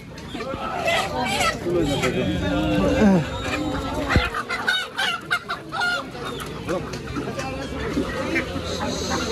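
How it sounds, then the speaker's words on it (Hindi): Many chickens cluck and squawk at a busy weekly market in Karbi Anglong, Assam, heard fairly close amid crowd chatter and people talking over them. "यहाँ पर इतना सारा मुर्गियाँ है"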